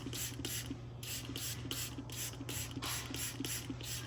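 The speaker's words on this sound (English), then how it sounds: "basically what I'm doing is just spraying it down" A hand-pumped spray bottle mists homemade neem oil onto a potted houseplant in a steady run of about nine short, even bursts, each a sharp hiss with a brief pause between, over a constant low hum.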